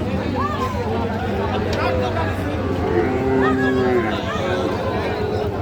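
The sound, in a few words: Sahiwal bull calf mooing at a cattle market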